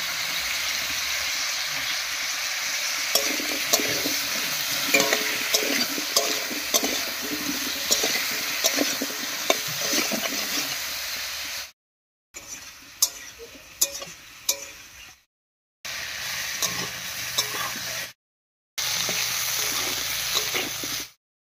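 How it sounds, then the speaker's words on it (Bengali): Papaya and potato pieces fry in fish-frying oil with salt and turmeric, a continuous close sizzle broken by light clicks of stirring, interrupted by several brief silent gaps. "পাঁচ 6 মিনিট মতো পেঁপে আর আলুটা রান্না করে নিয়েছি। বেশ একটু ভাজা ভাজা মতন হয়ে গেছে।"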